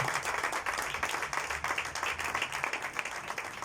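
Applause from a church congregation during an evening worship service, a steady broad wash of many hands clapping at moderate volume throughout, with a faint low hum beneath.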